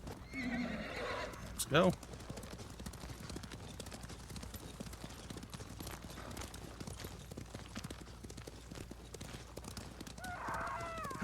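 Horses gallop in Ghost of Tsushima: a quick, continuous drum of hooves runs throughout, with a loud neigh near the start and another whinny toward the end, while a voice speaks briefly over it.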